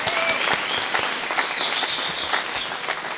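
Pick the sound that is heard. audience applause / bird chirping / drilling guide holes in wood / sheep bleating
audience applause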